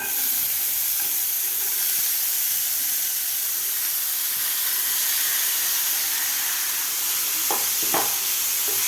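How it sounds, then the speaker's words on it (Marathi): Soaked dal sautéing in a kadai with fried curry leaves, green chilli and ginger makes a loud, steady hiss and sizzle close up, with a couple of sharp stirring knocks near the end and no one speaking. "डाळसुद्धा आपल्या खालच्या मसाल्यामध्ये व्यवस्थित आपल्याला परतून घ्यायची आहे एक ते दोन मिनिट"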